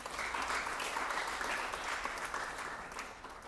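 A crowd at a community ministry gathering gives sustained, even applause, a dense, moderately distant wash of clapping with no clear pauses.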